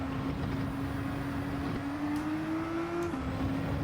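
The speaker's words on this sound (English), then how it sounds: "See the acceleration that the GTR has got" Nissan GT-R accelerating in Gran Turismo 7 during a GT3-style race: a steady engine drone rising in pitch, shifting gear near the end, with other cars faintly around it and no talk.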